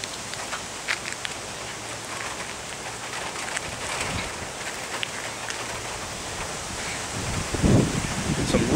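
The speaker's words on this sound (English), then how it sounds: "Some really, really high wind." High wind gusting ahead of a storm under an approaching shelf cloud, a broad continuous rushing and buffeting that rises louder near the end.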